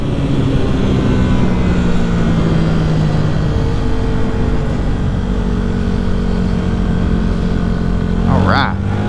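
A Yamaha WR250R dual sport motorcycle rides on continuously, its engine a loud steady drone with wind rush over it. A faint voice shows briefly near the end.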